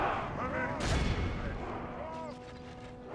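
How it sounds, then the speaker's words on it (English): Ballistas fire in a Third Age: Total War battle at Moria, a loud burst of launch impacts around the one-second mark over a dense, continuous din of fighting, with a voice speaking faintly in the background. "Ballistas giving some good shots off"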